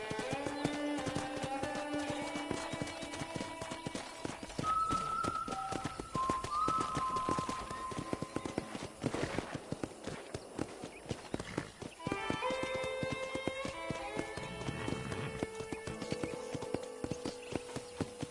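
Steady clip-clop of horse hooves at a walking pace in the video game Red Dead Redemption, with music playing throughout and occasional tonal whistles over the top.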